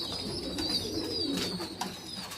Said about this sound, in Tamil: எல்லாமே ரேசிங் ஹோமர் தான் வச்சுருக்கோம்.